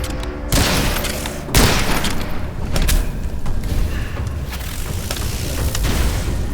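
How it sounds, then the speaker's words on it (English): Witchfire video game combat erupts with a mystical flashbang-like explosion, a loud booming blast followed by dense crackling bursts and sustained noisy rumble, heard up close without talking. "Like a mystical flashbang."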